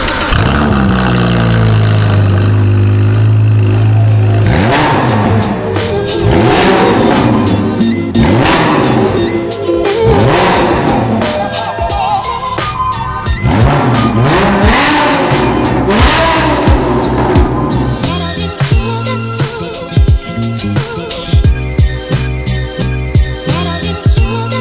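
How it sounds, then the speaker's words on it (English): A Gumpert Apollo supercar running through a Novitec exhaust, loud and close, revs repeatedly in sharp rising and falling bursts, then settles into a rough, crackling idle. "It sounds so good, and straight through Novitec exhaust as well."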